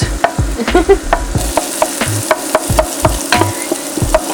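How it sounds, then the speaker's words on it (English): Onions cooking outdoors in a pan for prawn head oil, with a loud sizzle broken by regular sharp scraping and tapping of the stirring utensil at a steady rhythm, and no talk. "So you just cook these onions for 5 minutes"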